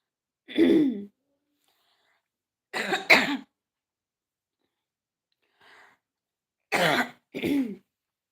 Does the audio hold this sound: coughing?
yes